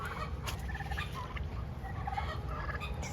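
Turkeys on a family homestead gobbling in a backyard garden setting, several rattling calls repeating over a low outdoor background, moderately near.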